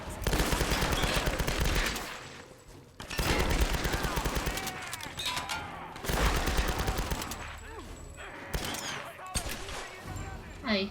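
Sustained automatic gunfire from a machine gun in the video game Tomb Raider (2013), loud and dense in rapid bursts separated by brief pauses, with chatter and clatter of combat in between.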